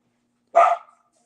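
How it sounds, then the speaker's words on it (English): Dogs bark once in a single sharp, loud outburst close by, announcing people arriving, with silence before and after. "Dogs just announced the arrival of people."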